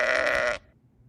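A single sheep bleat from a sound effect, a short, loud, wavering cry lasting about half a second and then cutting off abruptly to quiet.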